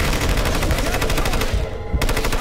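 Loud, continuous automatic gunfire in Hitman Absolution hammers nonstop at a fast, even rate and dips only briefly before resuming at full strength.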